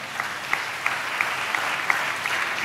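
A church congregation at a Christmas service claps in a steady, dense wash of applause, with faint rhythmic accents at regular intervals across a short stretch.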